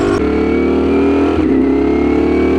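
A Ducati StreetFighter V4 motorcycle's engine revs loud and close, a steady rasping drone that dips briefly before surging again with a throttle blip.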